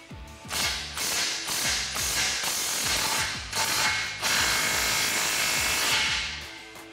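Rapid bursts of ratchet clicking as a hand wrench tightens the front exhaust clamp of a muffler delete on a 2009-2018 RAM 1500 5.7L, repeated strokes close and loud with brief pauses between runs.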